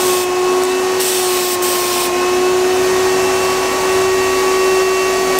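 A spray gun applies KolorBond paint to a uPVC window in a steady, loud hissing rush with a constant whine, running continuously close to the mic.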